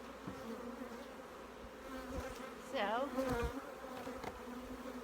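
Honeybees buzz steadily at an apiary hive opened for a mite check, a dense droning hum that swells louder midway as insects fly close, with a brief word spoken.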